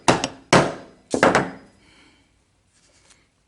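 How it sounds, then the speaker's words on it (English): A brass hammer taps a rifle front sight three times: sharp, close metallic knocks with short ringing decays, followed by near silence and a faint trailing tap. "And I'll just use my brass hammer."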